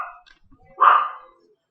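A dog lets out one loud, close bark that trails off quickly, preceded by faint, scattered noises and followed by silence.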